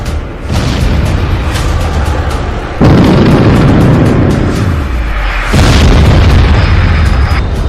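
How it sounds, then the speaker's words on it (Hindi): A Storm Shadow cruise missile depot explodes in a wartime strike, giving a loud, continuous roaring rumble with several heavy surges of blast noise and no voices. "पुतिन की तरफ से ट्रिपल अटैक में स्टॉर्म शैडो मिसाइल के गोदाम उड़ा दिए गए हैं।"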